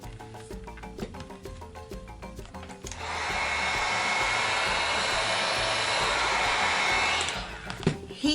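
A heat gun blows a steady, loud rush of hot air for about four seconds while decoupage napkin paper is trimmed on a pumpkin-themed wooden bread board, with light handling noises before and after.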